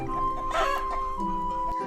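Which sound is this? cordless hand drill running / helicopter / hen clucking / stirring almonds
hen clucking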